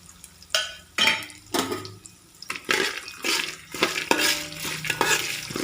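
Cashew nuts stirred in a pan while making semolina upma: a spoon scrapes and clatters in a series of irregular bursts, close and fairly loud, with a light sizzle beneath.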